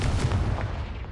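A Confringo blasting spell in Hogwarts Legacy explodes with a heavy booming rumble, loud and close, filling the short moment with dense low-frequency blast noise.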